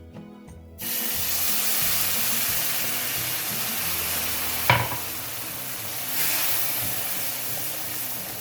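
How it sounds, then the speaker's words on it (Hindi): Water splashes into hot browned semolina halwa frying in a pan, setting off a loud, continuous sizzle with a sharp spitting burst midway and stirring scrapes, close up. "अब यहाँ पे हम डालेंगे थोड़ा सा पानी।"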